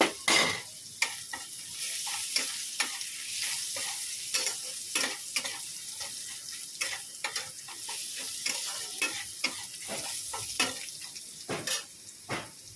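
Crushed garlic fries in hot oil in a wok with a steady sizzle, while a utensil stirs and scrapes against the pan in irregular, close clatters.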